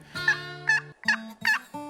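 A wild turkey gobbles close up: four sharp, rattling calls in quick succession, loud and clear with no talking.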